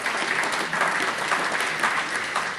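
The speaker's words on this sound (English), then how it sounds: "you can give a round of applause for that" A crowd at a Kansas kickoff event claps in a sustained round of applause, dense and even with slight swells, loud and close with no voice on top.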